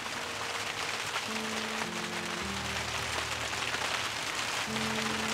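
Rain pattering steadily on a Himalayan mountain trek to Kareri Lake near Dharamshala, a dense continuous hiss close by, with low tonal hum lines running underneath and no voices.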